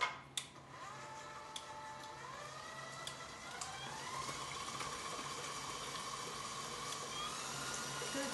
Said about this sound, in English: you put it on your mixer, and you want to mix it until it gets nice and creamy looking.